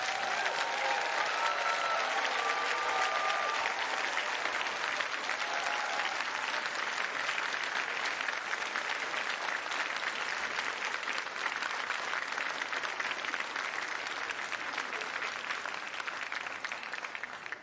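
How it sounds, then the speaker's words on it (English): A graduation ceremony audience at Salford Business School gives the graduates a sustained, rapturous round of applause. It holds as a dense, even wash of clapping throughout, with a faint voice near the start. "a rapturous round of applause for"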